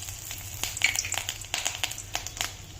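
Byadagi dried red chillies hitting hot oil in a pan, a bright close sizzle with irregular crackles and spits that flare and settle, no talking.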